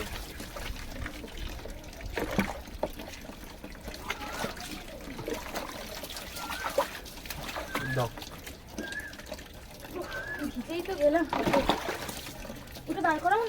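Water trickles and splashes into a large household vessel as it fills, a faint uneven stream running under several people chatting nearby.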